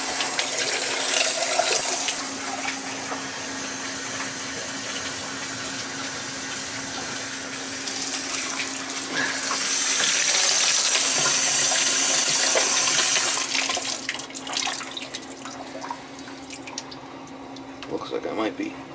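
Water trickles and gurgles slowly down the drain of an old two-bay soapstone basement sink, a steady wash with a rise in rushing flow partway through and a low constant hum underneath.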